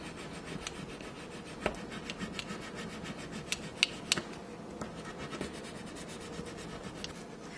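A tool burnishing an image transfer onto thin metallic art foil, heard as repeated close scratchy rubbing strokes with a few sharper scrapes, quiet and steady, with no talking.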